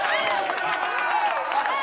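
An audience cheers and applauds steadily and loudly, with overlapping whoops and shouting voices forming a dense continuous roar.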